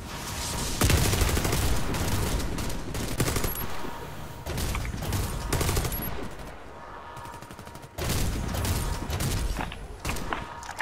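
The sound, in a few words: gunfire in a video game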